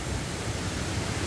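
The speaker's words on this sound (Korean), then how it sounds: "여기 작은 폭포거든요" A small waterfall on a mountain valley stream at Yumyeong Valley, Gapyeong, gives a steady, even rush of falling water, close and constant, with no voices.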